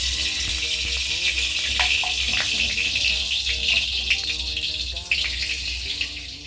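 Ghee sizzles steadily in a wok while fried rice is being made. A loud, continuous hiss is broken by a few small crackles and clinks.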